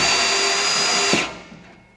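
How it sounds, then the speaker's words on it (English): A power drill drives a screw into the timber frame of a raised garden bed, whirring steadily for about a second before the motor cuts out and winds down to quiet. "So you're drilling slow with pressure."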